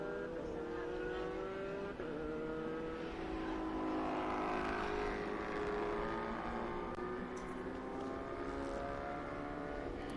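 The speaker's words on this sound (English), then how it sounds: "Last of the cars coming across the line." Race cars roar past at Circuit of the Americas, a continuous layered engine drone with overlapping revving tones rising and falling as several cars cross the line, moderately distant and without speech.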